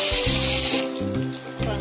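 Cumin and mustard seeds hit hot oil in a pan for tempering, giving a loud, steady sizzle that crackles and settles in short waves.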